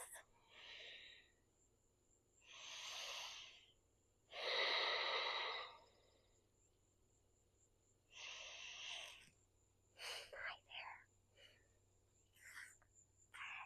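Slow, deep, long breaths during a yin yoga session, several soft breathy inhales and exhales spaced a few seconds apart over a quiet background, ending with shorter, quicker breaths.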